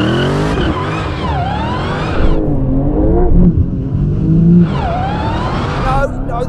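A Dodge Challenger Demon spins its wheels at a drag race launch, loud tire squeal and revving engine sliding up and down in pitch, continuous and close, with brief voices over it.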